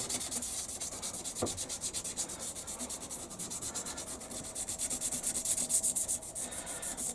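Coarse brown Scotch-Brite pad sprayed with WD-40 rubs back and forth over metal in quick, regular scratchy strokes, close and fairly soft, without any voices.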